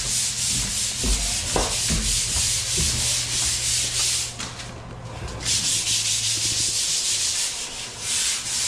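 Sandpaper is scraped by hand across a dried skim coat wall, a steady rough hissing rub with repeated strokes running almost continuously, close and fairly loud.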